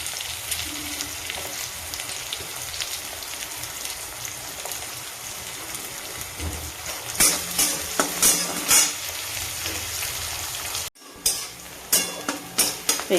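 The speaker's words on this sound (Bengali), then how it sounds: "কাঁচা লঙ্কাটাও একটু ভেজে নেব।" Green chillies and onion sizzle steadily in hot oil in a pan, a continuous crackling hiss broken by sharper bursts of stirring and a brief pause before the frying resumes.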